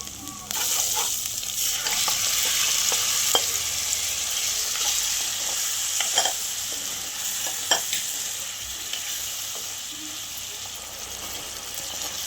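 Mutton pieces sizzle steadily in hot oil in a pan with chilli powder, a constant close frying hiss broken by occasional clicks of a utensil stirring and scraping the pan.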